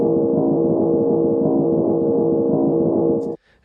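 Looping rolling-ball sound effect from a VR demo built in Unreal with Wwise, a steady continuous rumble with a pulsing texture that plays alone for over three seconds and then cuts off abruptly.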